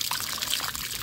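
Dirty water is poured over a leg during washing, a continuous hissy splash and trickle close by, steady for the whole moment with no talk.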